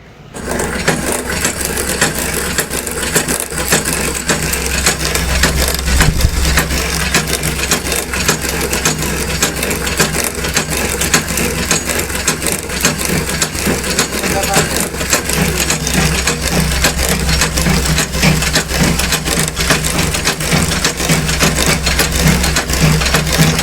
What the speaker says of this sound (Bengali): দেখুন কিভাবে অন্ধকারে বাতাসা বেরাচ্ছে, এইটা একমাত্র আমাদের মেশিনেই সম্ভব